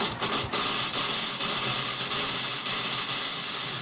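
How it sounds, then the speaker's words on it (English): Water rushes steadily into a residential water heater tank as it refills, with a hot water tap left open nearby; a continuous broadband hiss and spray holds constant and fairly loud throughout, with no talking. "You should now be able to hear the water entering the tank."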